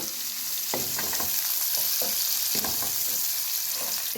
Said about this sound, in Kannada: ಇವಾಗ ಫ್ರೈ ಆಗ್ತಾ ಇದೆ ನೋಡಿ